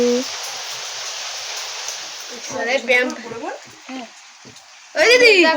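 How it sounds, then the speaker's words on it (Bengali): Heavy rain pours down outdoors on the way to a relative's house during a storm. A dense steady hiss fills the first seconds, then people talk over the fainter rain. "এখন কিন্তু এখানে প্রচুর বৃষ্টি হচ্ছে"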